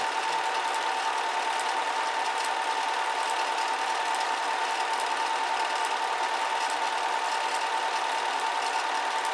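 A home movie film projector runs steadily, its motor and shutter making a constant whirring drone with a fine rapid flutter, loud and unbroken throughout.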